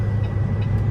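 A vehicle slowly backs out of a Flying J truck stop lot in Caldwell, a steady low engine rumble close by with faint higher clicks above it and no talking.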